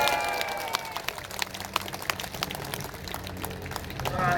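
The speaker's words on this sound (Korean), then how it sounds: "여러분 박수 부탁드립니다" Audience at a Korean political podcast event in Gwanghwamun applauds, scattered individual claps spread over a few seconds, fairly close, without speech over it.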